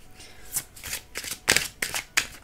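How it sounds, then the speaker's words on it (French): A deck of oracle cards being shuffled, with crisp riffling bursts repeating in an uneven rhythm, close and fairly quiet. "on va tirer une carte des portes de l'âme"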